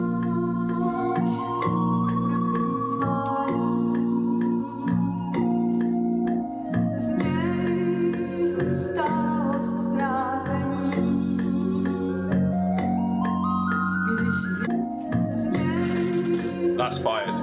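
Sampled melodic music loop, playing continuously at steady loudness with layered sustained tones and shifting chords, no vocals.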